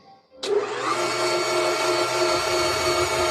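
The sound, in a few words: blender whirring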